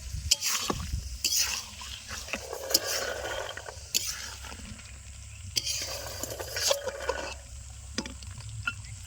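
Green peas are tossed into a frying pan at an outdoor riverside cook-up, sizzling as a spatula stirs and scrapes in uneven bursts, with no voices.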